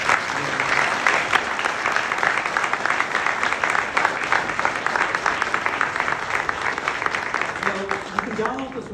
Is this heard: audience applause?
yes